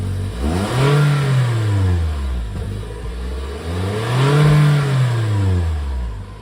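A Toyota Corolla Hatchback engine revs twice with its stock exhaust, rising and falling in pitch with a smooth, mild exhaust note, close by and loud.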